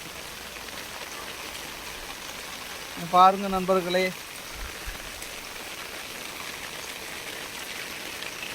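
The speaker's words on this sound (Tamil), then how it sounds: "இப்படி மழை பெஞ்சுன்னா" Heavy rain hisses throughout, a dense even wash of falling water flooding a street deep enough to submerge a parked motorbike, with someone speaking briefly in the middle.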